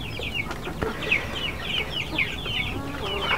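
Breeding hens of the AKA chicken breed cluck and chatter in a farm setting, several overlapping short clucks and squawks at close range, continuous and busy without a clear voice.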